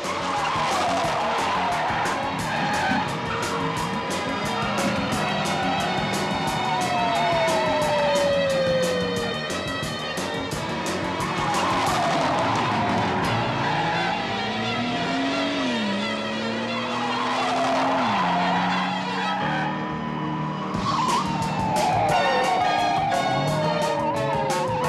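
Tires skid and squeal repeatedly during a car chase in the Starsky & Hutch TV series, the screeches sliding in pitch over a loud, busy backdrop of engine roar and dramatic music, with no talking.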